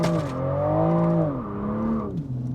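A 2023 Toyota Supra with a 340 hp engine revs high and holds during a burnout, the sustained engine note wavering and dipping near the end, loud and close with no talk.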